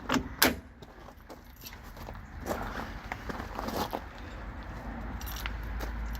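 A set of keys for the Powrtouch Evolution remote-control motor mover on a 2020 Swift Sprite E4B caravan jangles in a few quick, bright clinks, with faint handling noise and a low background hum.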